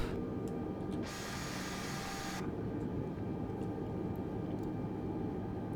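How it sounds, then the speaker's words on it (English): Over a constant engine-like drone, an Airbus A320neo's auxiliary power unit in Microsoft Flight Simulator kicks in with a bright, loud rushing whoosh that holds for about a second and then cuts off abruptly. A few faint clicks follow. "APU starts."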